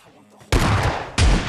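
Two loud, close bursts of M16 rifle fire from the mobile shooter game PUBG Mobile Lite, each abrupt and sustained, the second following about half a second after the first ends, with faint background before.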